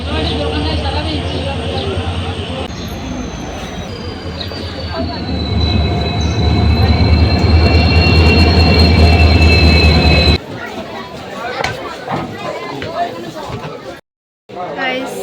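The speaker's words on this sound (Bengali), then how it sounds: "আমরা ট্রেনে উঠে পড়েছি।" Passenger train running toward Silchar, heard from on board: steady loud rumble with long high wheel squeal for several seconds, then a quieter rattling stretch broken by a brief cutout.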